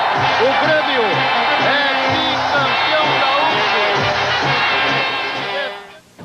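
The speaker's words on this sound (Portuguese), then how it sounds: "Explode de alegria a torcida tricolor." Grêmio football supporters roar in a packed stadium as the match ends, a dense, loud, sustained crowd cheer with whoops and shouts layered over commentary, fading slightly at the close.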